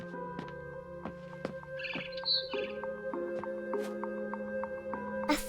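Barn swallow chirps from the game What Remains of Edith Finch: a run of short, sharp tweets and trills repeating at a quick, uneven pace, close and moderately loud over a steady low ambient hum.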